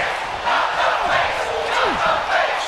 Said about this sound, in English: they're booing, that's for sure